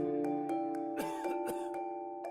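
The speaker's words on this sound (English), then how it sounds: "This is what it looks like when someone coughs into their hand" Two short, muffled coughs into a hand close by, over a steady tonal drone in the background.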